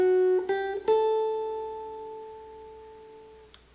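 Guitar playing a riff: a few quick picked notes, then a held note ringing out clearly and decaying, solo and close.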